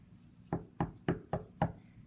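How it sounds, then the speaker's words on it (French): Five steady knocks on a brick house door in a telling of the Three Little Pigs, evenly spaced, close and solid with a dull wooden thump. "le loup a frappé"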